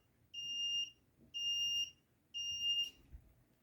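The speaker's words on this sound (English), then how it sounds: "And there's our alarm." A smoke alarm beeps three times in a steady rhythm, each shrill, even tone lasting about half a second, clear and moderately near against a quiet background.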